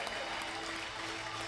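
Church congregation applauding during a sermon, a steady dense wash of clapping that fills the whole moment without pause, no voices standing out above it.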